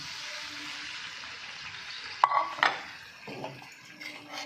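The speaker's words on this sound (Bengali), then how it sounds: "আমি একটু ভাজা ভাজা করে নিচ্ছি আদা রসুনটা কিন্তু ভাজা হয়ে গেছে বা কষানো হয়ে গেছে এবার চিকেনটা দিয়ে দিচ্ছি" Chicken hits a hot pan of fried ginger and garlic for butter chicken, a steady oily sizzle followed by sharp clinks and scrapes of a utensil against the pan and a fresh burst of frying.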